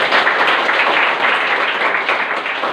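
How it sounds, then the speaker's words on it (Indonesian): An audience applauds at a play-and-learn session, with dense, steady clapping from many hands that stays loud and close throughout, with no talk over it. "tepuk tangan teman-teman"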